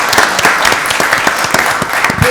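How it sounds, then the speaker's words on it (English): Audience applause at a Rockdale County Board of Commissioners meeting: loud, dense, sustained clapping from a roomful of people that keeps an even level throughout. "Let's give them a round of applause."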